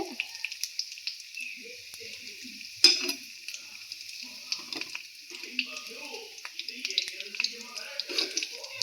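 A bread cutlet fries on a low flame in a pan, giving a steady soft sizzle broken by light scraping and one sharp clatter as it is flipped, while a person talks over it.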